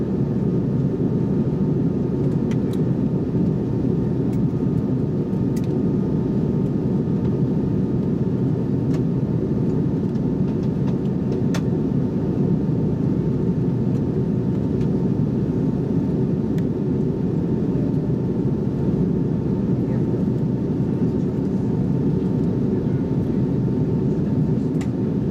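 Steady, loud airplane cabin noise as a passenger jet descends before landing, a continuous low engine and air roar with no talk, heard from inside the cabin.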